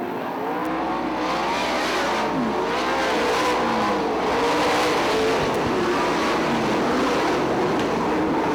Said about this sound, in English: Greg Wilson pulls away from Byron Reed